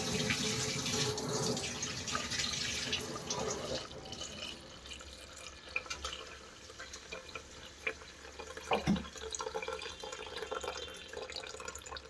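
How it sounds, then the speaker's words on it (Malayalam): Tamarind water poured into a pot for rasam, a steady running splash for the first few seconds that thins into scattered drips and light clatter, with faint speech in the background. "ഈ പുളിവെള്ളം ഒഴിച്ചു കൊടുക്കാം കേട്ടോ."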